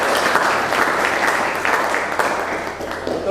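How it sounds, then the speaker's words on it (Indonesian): Audience in a classroom teaching practice session giving lively applause; dense, loud, continuous clapping from many hands, sustained throughout without talk. "Berikan tepuk tangan yang meriah untuk."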